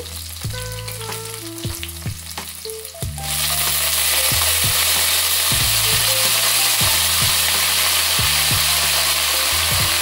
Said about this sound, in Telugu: ఇప్పుడు మనం వంకాయ ముక్కలు వేసేసుకుందాం